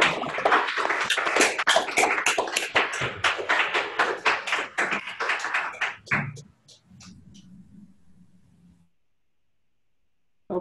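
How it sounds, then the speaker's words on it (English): Online audience clapping over unmuted microphones after an academic talk on type theory, a dense burst of overlapping claps and taps for about six seconds that thins out, leaving a quiet murmur before falling silent. "Let me unmute everyone and we can applaud."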